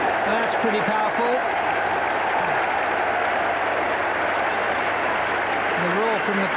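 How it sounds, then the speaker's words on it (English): Cricket crowd at The Oval during a one-day international between England and Pakistan, a broad steady roar with scattered applause filling the whole stretch, dense and continuous, with a commentator's voice faintly audible within it. "The roar from the crowd suggested something more than just a pulled boundary there"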